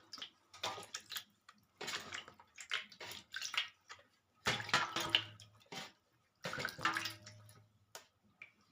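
Water splashes in short bursts over a small Venkateswara idol being washed, several separate pouring and rinsing spells broken by brief pauses, close and fairly soft.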